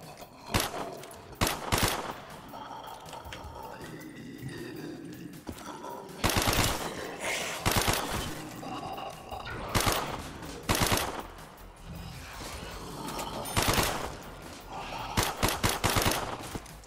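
Rapid bursts of automatic gunfire from Call of Duty Zombies, several loud volleys spread across the stretch with game ambience between them and occasional speech.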